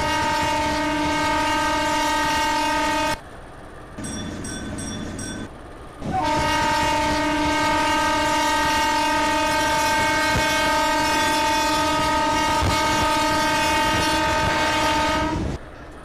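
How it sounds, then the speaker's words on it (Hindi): A loud, sustained electric train horn blares twice with a short break between, over the rumble and clatter of a moving Sealdah–Dankuni EMU local train in the Open Rails train simulator. "पीछे चलते हैं, हॉर्न बजा देते हैं।"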